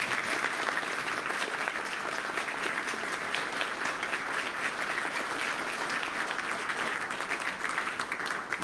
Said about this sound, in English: Let's give our award winners one more round of applause.